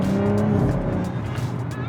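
A 2021 Audi RS5 Sportback with quattro drive accelerates hard, its engine note loud and close as the revs climb, with light tire noise underneath.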